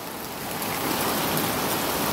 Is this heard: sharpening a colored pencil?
no